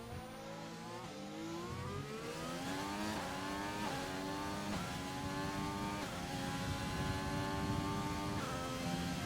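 A race car engine from a sim racing game revs and shifts up through the gears, its pitch climbing and dropping with each change in a continuous, fairly close drone, heard alone without commentary.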